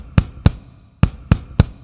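Bass drums on a drum kit, played with double strokes from the right foot and single strokes from the left: five sharp, close, punchy thumps in uneven clusters with near silence between them.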